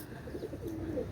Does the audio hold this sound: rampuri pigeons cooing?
yes